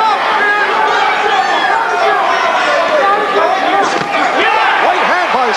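Crowd at a 1981 ten-round heavyweight boxing bout between Gerrie Coetzee and Renaldo Snipes roars and chatters continuously and loudly, with a ringside commentator talking over the noise.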